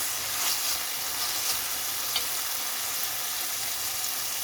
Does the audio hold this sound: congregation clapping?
no